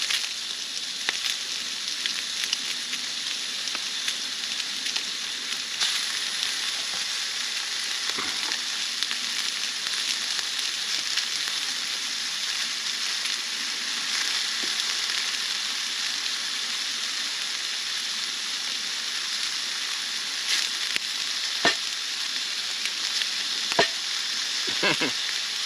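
Halved tomatoes fry in a skillet over an outdoor camp setup, giving a steady, close sizzle that holds throughout, with a few sharp clicks and scrapes of stirring.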